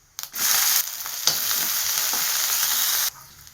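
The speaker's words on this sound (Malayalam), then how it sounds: "ഉള്ളി ഇട്ട് കൊടുക്കാം." Onions hit hot oil with mustard seeds for a Kerala brinjal tamarind curry, bursting into a loud, sustained sizzle that runs steadily for over two seconds, then cuts off abruptly.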